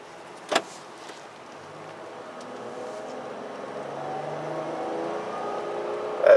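A 2019 Honda Ridgeline RTLE AWD pickup pulls away from a stop with light throttle, its engine drone rising gradually and steadily over several seconds, heard from inside the cab after a brief knock near the start.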